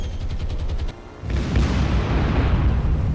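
A bomb explodes on an enemy ship in the naval combat game War on the Sea. Heavy gunfire rattles first, then after a brief dip a huge, close blast swells into a sustained rumbling roar.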